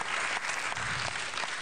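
Close, steady applause from an audience, many hands clapping in a dense, even patter that carries on without a break.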